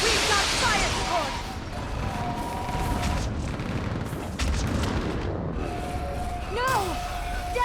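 Artillery fire-support explosions in the Mass Effect 3 video game, heavy booms and crashes rolling over dense battle noise, with voices shouting among the blasts.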